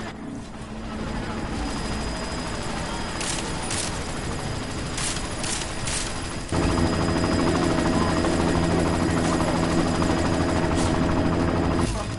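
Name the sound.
helicopter (chopper) in the video game Deus Ex: Mankind Divided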